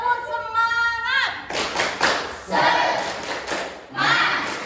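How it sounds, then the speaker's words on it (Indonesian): A primary-school class claps in rhythm for a group spirit clap, sharp sets of hand claps coming in bursts, with children's voices chanting between and over them. "Ayo coba. Tepuk semangat."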